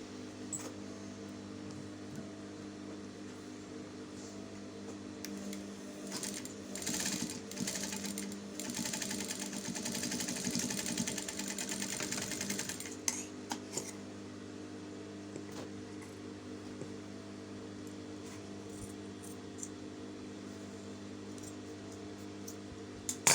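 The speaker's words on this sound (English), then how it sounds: "I'm going to align them together with the front now so that I can sew." A sewing machine stitches the back and front of a halterneck dress together in a steady whirring run, louder in the middle stretch, with a few pauses and clicks and no talking.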